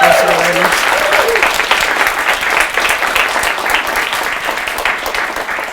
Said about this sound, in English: Let's give another round of applause to all of our students, speakers,